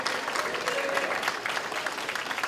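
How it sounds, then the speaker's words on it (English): Steady applause from a crowd, a dense wash of clapping that holds at an even level throughout. "Give them a round of applause."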